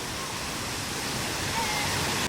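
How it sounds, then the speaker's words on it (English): Niludhan Falls on Negros Island pours in a steady, loud roaring rush of water that fills the whole scene without a break. "What do you rate the waterfall?"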